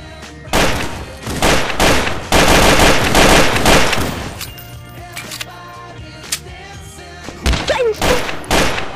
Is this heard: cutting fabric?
no